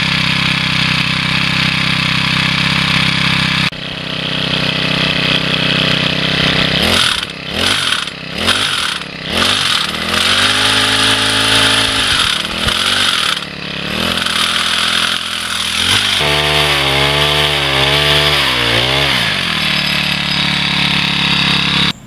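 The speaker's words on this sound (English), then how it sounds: "The 4-cycle hedge trimmer. Got this to start up." A Troy-Bilt 4-cycle hedge trimmer that leaks a little fuel starts after a few sputtering pulls. It then runs loud and close, revving up and down repeatedly before settling into a fast, buzzing idle.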